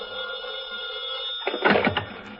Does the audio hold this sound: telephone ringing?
yes